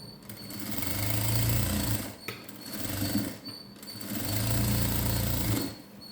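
A sewing machine runs a blouse patti seam in two long, steady droning bursts separated by a brief pause, close and fairly loud with no talking.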